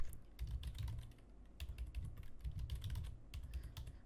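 Rapid, uneven clicking of keys on a computer keyboard as a password is typed, close by with short pauses between bursts and no talking.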